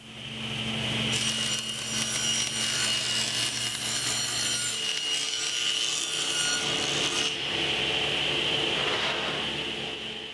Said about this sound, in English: I'll set my saw fence at 20 degrees and rip at the peak on this side and on this side